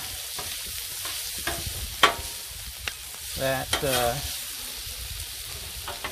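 Paella ingredients are mixed together on a hot griddle with a steady sizzle, punctuated by scraping, clicking utensil strokes and a brief squeaky stretch near the middle, close and moderately loud.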